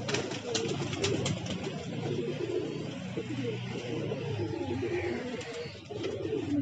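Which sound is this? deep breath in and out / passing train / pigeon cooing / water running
pigeon cooing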